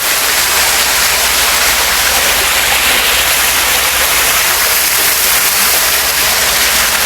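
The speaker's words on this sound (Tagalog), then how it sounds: "ang ganda ng fountain niya." A water fountain at Hillon Bakery Cafe in Yeosu splashing steadily, a loud, continuous broadband rush of falling water with no breaks and no voices.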